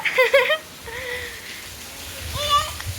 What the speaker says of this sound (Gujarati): જો વરસાદ આવ્યો રુદુ વરસાદ આવ્યો